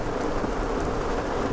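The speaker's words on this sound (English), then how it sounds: "It's really raining." Heavy rain pours down outdoors at a boondocking campsite with thunder rumbling, a loud, dense and unbroken downpour that fills the whole moment.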